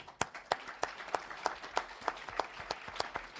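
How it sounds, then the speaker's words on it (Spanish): Faint, evenly spaced claps at about three per second, sounding like a small group applauding at a conference session on radio and online communities, with no talk heard. "yo personalmente pedí otro aplauso"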